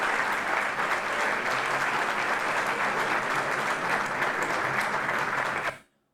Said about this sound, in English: They're all clapping for him